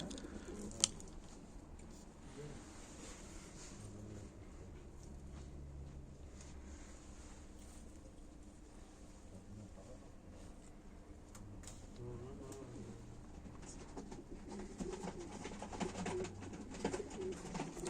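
Domestic pigeons, including smoke-coloured and blue-spotted birds, coo softly and continuously in a loft, low murmuring calls running steadily under faint background noise with a brief knock early on.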